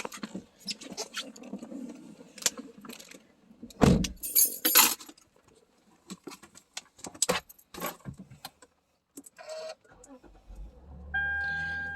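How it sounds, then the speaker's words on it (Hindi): Keys jangle and a car door is handled, then a car engine is started and settles into a steady idle near the microphone, with brief voice sounds and rain pattering earlier. "गाड़ी start करती हूँ"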